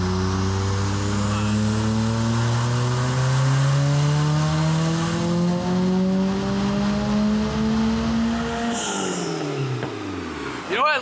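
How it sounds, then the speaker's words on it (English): Mitsubishi Eclipse GSX with 240,000 miles, running on ethanol, revs hard on a dyno: a loud, close engine climbs steadily through the gears for about nine seconds, then cuts off with a brief whoosh and a sharp final burst. "we probably got rid of a ton of carbon just ripping it so many times on the dyno"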